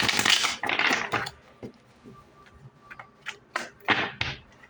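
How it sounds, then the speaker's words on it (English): Tarot cards are shuffled in a few quick riffling bursts, then several sharp separate snaps and slaps of cards, close and fairly loud. "One more shuffle."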